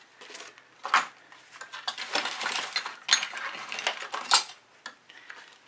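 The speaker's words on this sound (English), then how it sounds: "I'm going to throw that spatula in the bucket." A metal spatula clatters into a paint bucket, setting off a run of sharp metallic clinks and knocks with several louder bangs, close by and without any voice.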